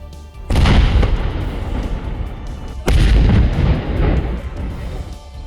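Two heavy, booming blasts about two seconds apart from controlled detonations of unexploded artillery shells in Jammu and Kashmir and Rajasthan, each followed by a long rumbling roll that slowly fades. No voices.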